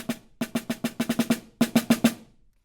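A percussion drum plays a measure of 16th notes without the roll, crisp even strokes in short bursts separated by brief gaps, close and clear.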